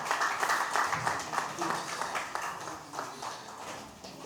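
Audience applause for a professor after an academic lecture on African music, steady dense clapping filling the room throughout, moderately loud, with some voice activity mixed in.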